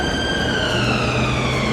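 Emergency vehicle sirens wail along a city street, a loud sweeping tone carrying continuously over low traffic rumble.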